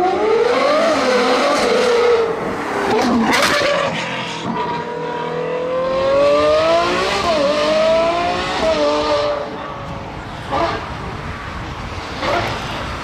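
A Ferrari 812 Competizione sports car accelerating hard past onlookers at a Gumball 3000 rally stop in Calais, its engine note climbing through gears, loud and close, with a brief tire chirp and later passing engine sounds further off.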